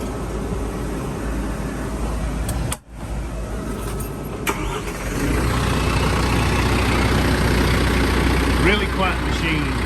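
A heavy machine engine of a 2021 Bobcat T574 compact track loader with cab runs steadily nearby with a low rumble, its drone rising slightly partway through, while a person talks over it.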